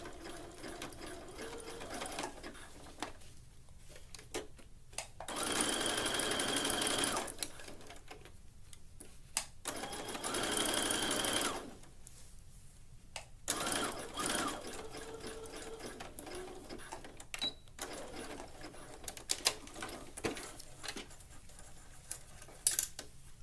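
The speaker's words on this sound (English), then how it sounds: "I'm going to need to stop when I get to that point and bring my presser foot up and pivot, and then I can bring my presser foot down again" A sewing machine stitches the neckline of a tankini top in steady bursts, its fast mechanical whirring starting and stopping several times with short pauses between runs.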